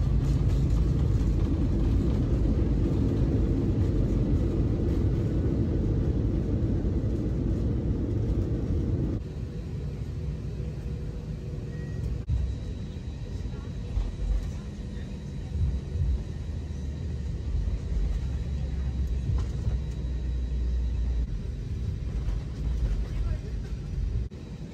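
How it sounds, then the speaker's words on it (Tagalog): Airliner rolling on the runway after touchdown at Singapore airport: a loud, steady low rumble with roaring engine noise that drops to a lower, uneven level partway through, with no speech. "At nag-touchdown na tayo sa Singapore."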